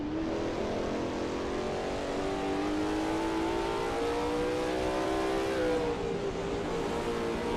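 A Lola T70 MkII Spyder race car in a racing game at Kyalami 1967 holds a steady, loud engine note, its pitch climbing gradually through a long pull on a hot lap, continuous with no talk.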